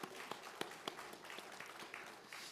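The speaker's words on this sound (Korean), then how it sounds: "우리 성가대를 위해서 박수 한번 하겠습니다" A church congregation claps for the choir during a Sunday worship service, a faint, scattered patter of hands with a few sharper individual claps, fairly distant and quiet throughout.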